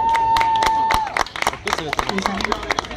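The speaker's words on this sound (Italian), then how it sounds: "E quindi un applauso va a Laura Barbaro" Applause and clapping from an audience at an award ceremony for a talent contest, scattered claps and crowd noise rising after a sustained tone, mixed with voices.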